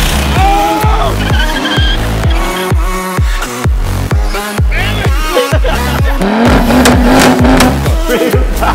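Turbocharged car drifting at an import car meet, loud and close, with repeated rhythmic engine revs and pops and a long sustained tire squeal near the end.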